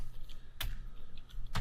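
A few quick bursts of computer keyboard typing as a network command is entered, close and fairly soft over a low background hum, with two distinct clusters of key clicks and no voice.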